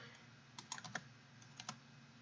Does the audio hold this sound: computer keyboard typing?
yes